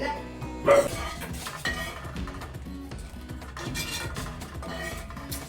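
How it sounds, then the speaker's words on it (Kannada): Tomatoes for a prawn upsaaru are mashed in a pot with a masher, producing repeated rhythmic clinks and soft squelching knocks against the vessel, close and moderately loud. "ಸ್ಮ್ಯಾಶರ್ ಐತಲ್ಲ, ಸ್ಮ್ಯಾಶ್ ಮಾಡ್ಕೊಳ್ಳಿ. ಈ ಥರ ಸ್ಮ್ಯಾಶ್ ಮಾಡ್ಕೊಳ್ಳಿ"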